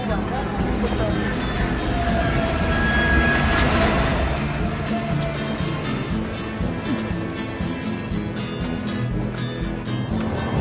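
A passenger train on the Trans-Siberian Express rolls along the tracks with a steady, continuous rumble and clatter heard from inside the carriage, a constant loud drone, and talk is heard over it.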